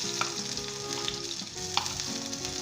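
Onions frying in olive oil in a pan over low heat for a Spanish white chickpea dish, a steady soft sizzle with occasional small pops and stirring clinks, close and fairly quiet with no voices.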